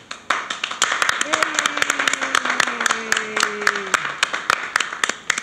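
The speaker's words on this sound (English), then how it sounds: "Stand by for applause" A studio audience at a 1990 television talent show applauds with a steady patter of many close claps throughout, while a sustained sung or played tone glides briefly above it.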